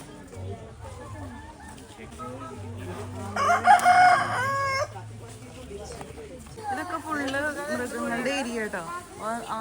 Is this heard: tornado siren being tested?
no